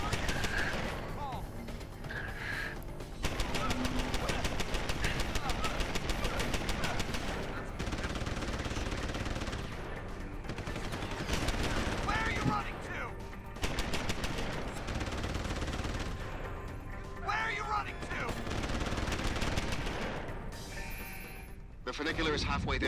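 Automated turret in Deus Ex: Human Revolution firing at enemies, long rattling bursts of rapid gunfire broken by short pauses, with someone talking over the shooting throughout.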